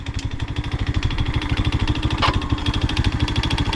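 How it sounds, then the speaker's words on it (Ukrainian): A small Alpha moped engine idles after a seized-motor repair, putting out a rapid, even putter of firing pulses, close and steady, with one brief clank partway through. "Ви чуєте це? Це холостий ход."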